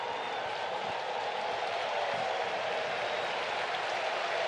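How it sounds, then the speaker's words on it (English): A big ballpark crowd at a Brewers vs Braves baseball game cheers a pitcher, a steady, dense wash of applause and voices that holds at an even level throughout with no break. "And this big crowd cheering him on."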